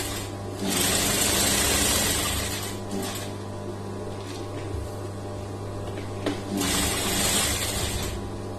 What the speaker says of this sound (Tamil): ஊசியை உள்ள இறக்கிட்டு அதுக்கப்புறமா தான் நம்ம ஒவ்வொரு சைடும் இந்த மாதிரி திருப்பி தையல் போடணும்